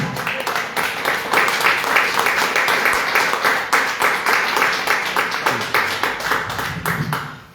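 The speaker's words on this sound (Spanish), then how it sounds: "Dale un aplauso ahora sí." A church congregation applauds during a sermon, with dense rhythmic clapping sustained for over seven seconds that stays loud and close before tapering off at the end.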